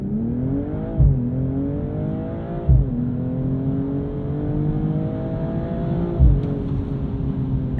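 A 2022 BMW M240i launches hard under launch control, its engine revving and climbing through the gears with sharp thuds at each upshift, loud and close with no talking.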